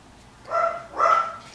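A dog barks twice at close range, two short loud woofs about half a second apart, heard indoors during a crochet tutorial with no talk over them.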